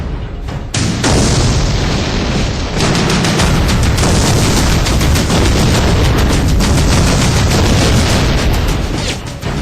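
Loud, dense bursts of gunfire and missile launches go on without pause during a Chinese military exercise, a continuous barrage of sharp cracks over a heavy rumbling roar.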